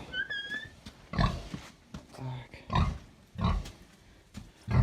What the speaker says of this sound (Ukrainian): показую першу свиночку, в'єтнамку